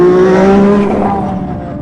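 Ayrton Senna's Formula 1 car on a lap, driven by Lewis Hamilton, a loud high-pitched engine howl that holds steady and then fades as the car moves away.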